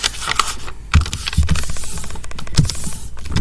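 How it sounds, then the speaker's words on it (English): Paper crinkles and crackles as a sheet is folded again into a paper airplane, with sharp creasing snaps among continuous rustling, close up. "we want to fold it again"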